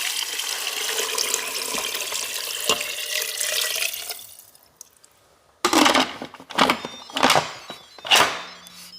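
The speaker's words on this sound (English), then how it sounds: "Two liters of hot water." Hot water pours steadily into a pressure cooker pot along with chicken bones and broth, a continuous splashing stream for about four seconds, then stops and is followed by a few separate gushes and sloshes.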